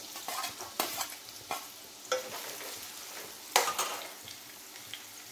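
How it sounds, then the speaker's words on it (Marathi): Onion frying in hot oil for a Hyderabadi chicken masala, a soft low sizzle punctuated by several distinct spatula scrapes and stirs, close and fairly quiet with no voices. "आता यात आपण कांदा घालून घ्यायचा आहे."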